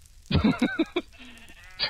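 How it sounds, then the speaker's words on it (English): Sheep bleat in the Minecraft video game as a flock is caught in a forest fire, several quick wavering bleats in a row, then a thinner sustained cry, clear and fairly close. "Oh, flaming sheep. Free mutton."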